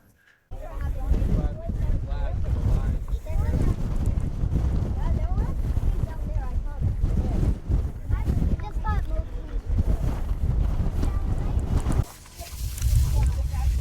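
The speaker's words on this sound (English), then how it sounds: "it's windy up here" Heavy wind buffets the microphone in a steady low roar at Meteor Crater, with people talking underneath throughout.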